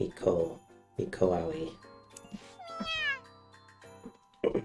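A cat named Giro meows several times in a visual novel game, with a clear rising meow in the middle set against soft background music and speech.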